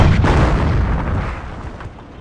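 Artillery fire in the Company of Heroes: Opposing Fronts strategy game during the Caen battle, a dense, loud rumbling barrage of booms that fills the clip and slowly fades, with no talk.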